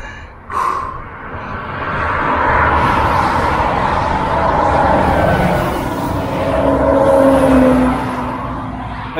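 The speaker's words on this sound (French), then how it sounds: "Vous voyez, c'est ce genre de camion là" A heavy truck rushes past close by on a road while a cyclist rides from Metz toward Belgium, a loud, sustained roar swelling and lingering for several seconds with no talk.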